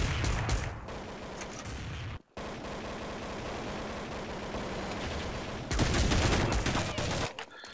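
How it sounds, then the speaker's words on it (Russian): Heavy gunfire in the Counter-Strike 1.6 video game. It rattles loud and nearly continuous, breaks off in a brief silent gap, then resumes with an even denser burst of shots. "Кто по нам стреляет? Где по нам стреляет?"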